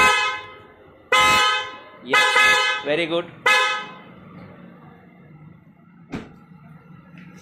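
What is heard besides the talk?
newly fitted Hella car horn honking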